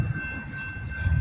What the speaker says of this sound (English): Then, as now, there were frequent trains that would shake the building.